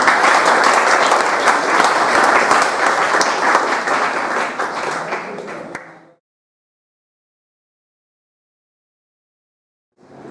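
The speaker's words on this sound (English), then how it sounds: "let's give them a huge round of applause" A small student audience gives a round of applause for guest speakers from a bank's forex department, a full burst of clapping that slowly thins and stops, followed by silence and a faint sound at the very end.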